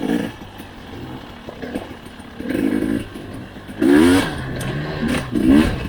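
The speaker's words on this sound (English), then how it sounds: "The bike that I'm riding is a 2020 KTM 300 XCW." A 2020 KTM 300 XCW two-stroke dirt bike on a forest OHV trail, its engine close and loud, rising in uneven revving bursts with clattering between throttle pulls.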